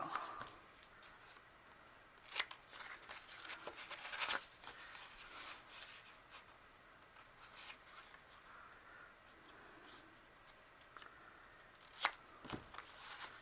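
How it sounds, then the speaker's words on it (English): Scissors cutting along one side of a paper tag, sparse crisp snips and paper rustles spread over several seconds, close but soft in a quiet room with no talking. "I got to cut the one side of this tag"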